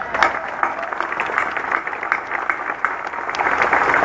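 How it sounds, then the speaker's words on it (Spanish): Crowd applause at an outdoor presidential campaign rally in Guaymas, Sonora, a steady dense wash of clapping held at a fairly even level throughout, swelling slightly toward the end. "Un aplauso para ellos."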